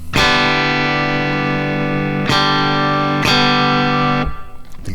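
A guitar run through a Flamma FX150 multi-effects floor unit plays three sustained distorted chords, each struck loudly and ringing with rich harmonics before a final cutoff.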